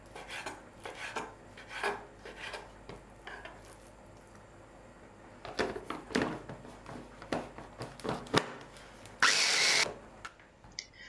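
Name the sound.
food processor mincing chicken breast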